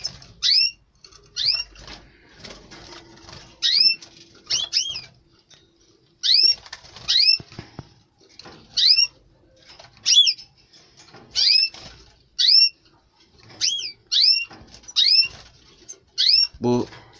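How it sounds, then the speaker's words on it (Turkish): Repeated bright, high chirps and short trills from caged canaries come in bursts with brief pauses, fairly close, against a quiet background with faint rustling. "Kanaryalarımızın yanına geldik."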